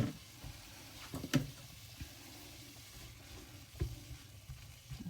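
Tomatoes and pasta sauce cooking in a pan for Tuscan white bean pasta give a soft, steady sizzle, with a few louder clinks and stirring knocks scattered through it.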